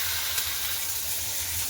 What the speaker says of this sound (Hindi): देखिए, आज के ये मैं चावल फ्राई करने जा रही हूँ